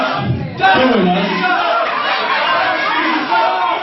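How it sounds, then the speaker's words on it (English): A wrestling crowd at a CWF Mid-Atlantic event boos and jeers in a dense, steady roar that fills the arena. A voice talks over it. "all you ladies are just booing us because you really want to be doing us"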